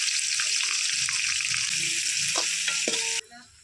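Fenugreek, curry leaves, chopped onion and green chili sizzle loudly in hot oil for a South Indian tempering, a steady close frying hiss with occasional stirring clinks, cutting off abruptly near the end.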